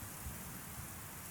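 Heavy rain with thunder in a zombie horror audio drama: a dense, steady downpour hiss with low rumbling underneath, continuous and enveloping, no voices.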